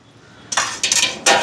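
A metal lid set half over a cooking pot of rice, heard as three quick close clanks and clinks of metal on metal against a quiet room.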